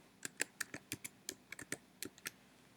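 Typing on a computer keyboard, a quiet, close run of irregular key clicks about a dozen strikes in quick bursts, alone without speech.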